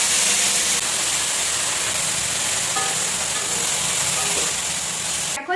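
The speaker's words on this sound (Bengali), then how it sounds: "এবার কড়াইতে একটু তেল দিয়ে দিয়েছি, এখন ব্রকলিগুলো তুলে দেবো" Broccoli frying in hot oil in a wok or karahi, a steady loud hiss and sizzle that holds for several seconds before a brief clatter at the end.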